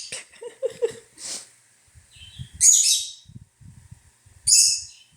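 Sammy, a pet bird, chirping and calling out to other birds, with short bright tweets and a couple of longer shrill calls separated by quiet gaps, close by, alongside soft low breathing-like sounds.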